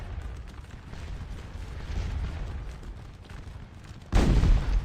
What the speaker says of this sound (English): And they're just getting bombed on by these cannon that we captured.